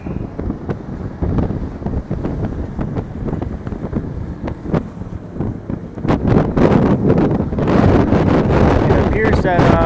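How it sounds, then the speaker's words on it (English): Gusty wind buffets the microphone outdoors near a skyscraper construction site, a loud, continuous low rumble that swells toward the end, with someone talking over it. "It's kind of windy out."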